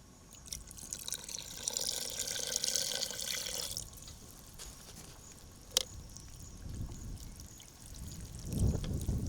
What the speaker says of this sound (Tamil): சிறிதளவு தண்ணி சேர்த்துக்கிறோம்